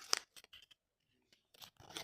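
A packet is torn open during unboxing, giving short crisp ripping and crinkling bursts at the start and end with a near-silent pause between them.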